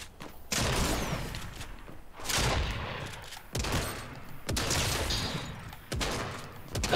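Gunfire bursts repeatedly in the video game Fortnite, in loud sustained volleys of several seconds each, broken by short pauses.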